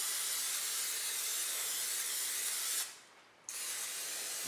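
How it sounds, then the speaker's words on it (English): Pam cooking spray hisses steadily onto a casserole dish in a long continuous burst, cuts out briefly for about half a second, then resumes; close and loud, with no talking. "Take some Pam or any type of vegetable oil, lightly coat your casserole dishes."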